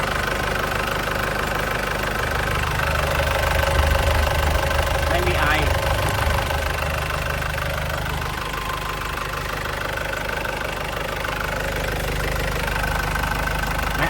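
A 1999 Isuzu Dragon Eye cab pickup with a 2.5-litre diesel engine idles steadily throughout, its even low knocking rumble running unchanged from start to finish while someone talks over it.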